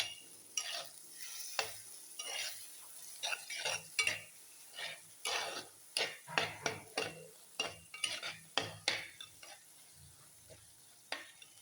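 A chili and boiled tamarind mixture stirred in a pot, with repeated scraping and clinking strokes in an irregular rhythm, close and moderately loud, over a faint sizzle.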